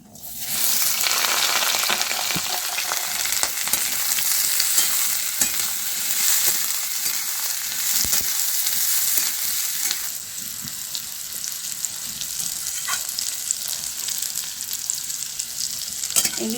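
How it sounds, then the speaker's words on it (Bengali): Bitter gourd and pointed gourd frying in oil, a loud, dense, continuous sizzle close up that eases slightly midway, with occasional spatula knocks and stirring, no voices. "আলুটা ভাজা হয়ে গেছে, এবার সবজিগুলো ভেজে নেবো।"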